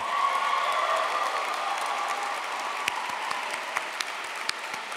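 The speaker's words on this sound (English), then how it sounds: "how about a round of applause for all the mothers in the room?" A theater audience at a musical theatre graduating showcase claps for mothers on Mother's Day, a broad sustained wash of applause that gradually thins, with a few sharper individual claps standing out near the end.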